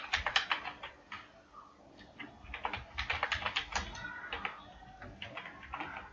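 Someone types on a computer keyboard, close and fairly quiet, in quick irregular bursts of clicks with short pauses between runs.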